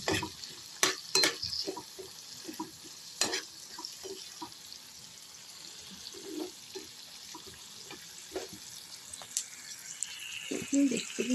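Chopped tomato going into a pan of frying okra: a steady soft sizzle with scattered scraping stirs and clinks of the utensil, close and moderately quiet, no voices.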